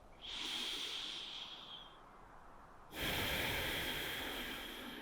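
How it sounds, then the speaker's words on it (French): Forceful breath exhaled during a morning yoga session, a long close airy hiss that fades, then a second strong breath out after a brief pause. "Videz complètement l'air de vos poumons"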